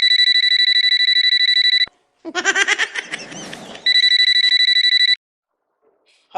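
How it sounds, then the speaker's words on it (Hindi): An electronic phone ringtone plays in two loud bursts, separated by a chirpy, warbling stretch, then falls silent. "फोन आ गया किसी का।"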